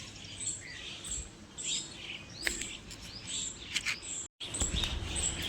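Sparrows chirp at a full bird feeder, a steady stream of close, bright tweets and calls from several birds at once, with a soft outdoor hiss and a short gap of silence near the end.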